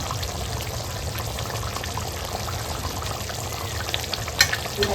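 Tiny shrimp vadas fry in hot oil, giving a dense, steady sizzle and bubbling crackle that runs continuously at close range, with no speech over it.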